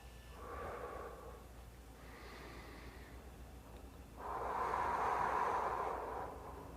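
Slow abdominal breaths during an upper-body stretching routine for the shoulders, back and neck, with two softer airy exhalations followed by a longer, louder breath out, close and steady with no talking.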